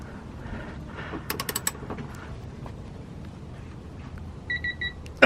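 A torque wrench tightens a crossmember bolt on a Mitsubishi Galant VR4 to 51 foot-pounds, giving a quiet run of quick ratchet clicks, a few faint electronic beeps and a louder clack at the end.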